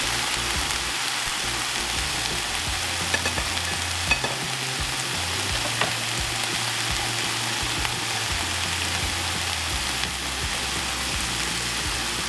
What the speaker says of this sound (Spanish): Aquí tengo el pollo dorando un poquito para después agregar la salsa.